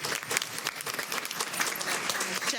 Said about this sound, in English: If we can just give our teaching and learning team another round of applause for their great work.